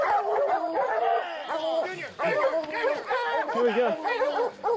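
Hunting dogs in West Texas barking, yipping and howling excitedly at a lion they have brought down, a dense chorus of close loud calls with someone speaking briefly over them.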